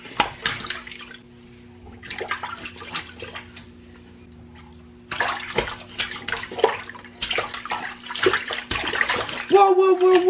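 A baby splashing water in a bath, with bursts of splashes, drips and sloshing in a small tiled room, broken by a quiet stretch; an adult talks and exclaims nearby.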